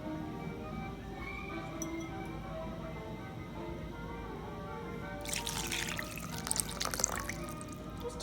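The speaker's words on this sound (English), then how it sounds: "Let's add the water, the last wet ingredient." Water poured into depression cake batter in a home kitchen, a soft trickling pour that swells into a louder splashing stream near the end, close by.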